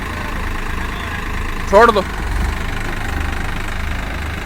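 A Swaraj 744XT and a New Holland 3600 tractor running side by side, their engines chugging in a steady mid-pitched rumble, with a brief shout from a man partway through.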